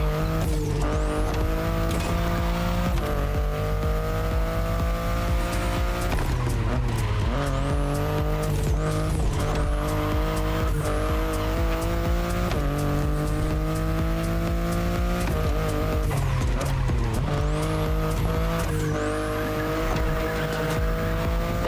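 A BMW i8 hybrid sports car driven in The Crew Motorfest, its engine tone climbing steadily through each gear and dropping sharply at the shifts, with repeated tire squeals, loud and continuous with no talk.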